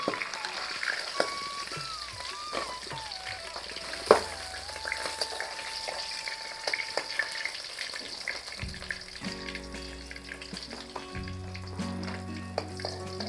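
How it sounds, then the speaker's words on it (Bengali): Catla fish frying in oil in a home kitchen, a quiet steady sizzle with soft crackles, plus a faint tonal whine and some clinking near the end; no one speaks. "মাছ ভাজা হয়ে গেছে,"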